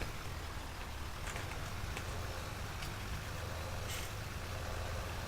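A big tractor engine idles in a farming video game, a steady low rumble that runs on its own without a break.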